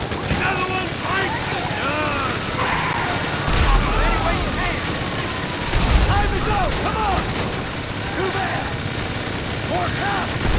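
Rapid bursts of Grand Theft Auto V gunfire crackle continuously during a bank robbery heist, over a dense, noisy mix of engine drone and chaotic action sounds.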